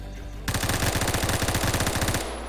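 Rapid automatic gunfire in the Phantom Forces video game, a loud, close, steady burst of quick shots lasting nearly two seconds over game ambience.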